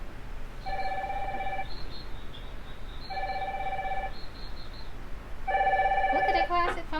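An old-style telephone rings in an anime, three loud electronic double-tone bursts about a second each with pauses between, the last cut into by a brief rising tone.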